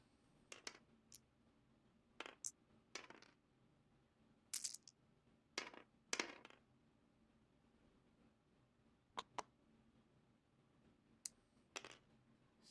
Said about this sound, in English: 3 big dice into Guri.